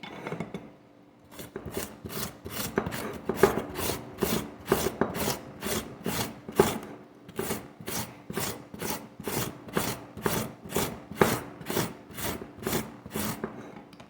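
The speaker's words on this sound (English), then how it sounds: "I'm done grating my veggies. So this is beetroot" Beetroot is rubbed over a hand grater in steady, rhythmic rasping strokes, about two per second after a brief pause, loud and close with no voices.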